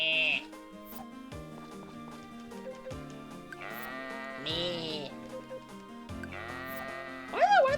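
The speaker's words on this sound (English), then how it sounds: "Why are the sheep and the baby cow sound so similar?" Sheep in the farming video game Friends of Mineral Town bleat in short synthetic cries over bouncy background game music, with several bleats spread across the passage.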